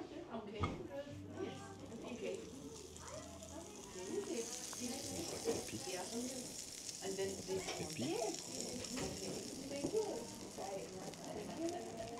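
Marbled beef sears with butter on a hot plate at a traditional ryokan in the Japanese Alps, giving a steady close sizzle that runs throughout, with people talking over it.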